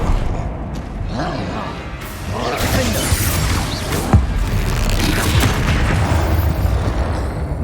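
A Bombarda spell blast in the video game Hogwarts Legacy, a loud boom with crashing debris layered over continuous game noise and battle sounds, with a voice calling out during the fight.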